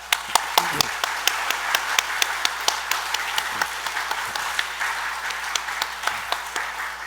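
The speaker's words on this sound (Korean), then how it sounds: "우리 자녀분들이 우리 부모님들과 어르신들 오래오래 사시라고 우리 박수 한번 하겠습니다" A church congregation at an intergenerational worship service claps together in a steady, rhythmic beat, sharp distinct claps repeating evenly over several seconds with a faint hum underneath.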